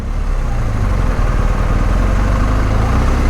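A BMW R 1250 GS motorcycle engine rumbles steadily at low revs while crawling through congested highway traffic at a barricade, a loud, continuous idle-like drone close by with no voices.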